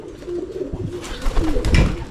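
Pigeons coo close by, low throaty warbling calls overlapping with some rustling movement.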